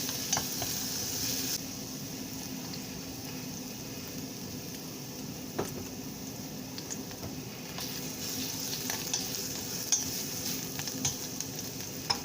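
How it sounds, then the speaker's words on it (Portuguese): Zucchini sautés in a pan while it browns, a soft, even sizzle running throughout with occasional light taps and scrapes of stirring, fairly quiet and steady. "Eu vou refogar um pouquinho. Deixa eu dar uma douradinha."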